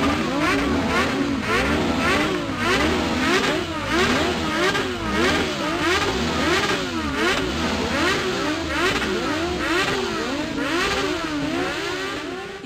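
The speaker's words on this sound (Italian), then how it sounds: "con il rombo di auto e di moto" At a funeral in Serino, Italy, many car and motorcycle engines rev loudly together in overlapping, rising and falling waves, a continuous roaring din up close.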